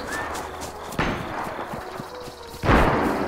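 Sniper rifle shots in DayZ, two sharp distant cracks with a booming tail, the second louder, set against a faint background hum.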